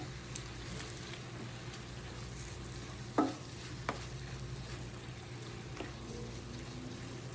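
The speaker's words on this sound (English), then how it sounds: "So I want to add most of these onions to it now to give it a little bit more flavor. And mix it all up." Onions stirred into frying cheesesteak meat in a pan, a steady low sizzle with quiet stirring and one sharp scrape partway through.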